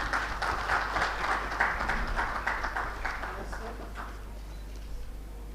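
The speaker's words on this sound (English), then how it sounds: "Can we please have a big round of applause," Audience at a rail industry expo panel applauds, a short burst of clapping that fades out over a few seconds, with speech mixed in.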